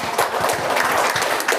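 Brief, steady round of applause from a group at a school plenary meeting, a dense patter of clapping hands that fills the short moment without speech.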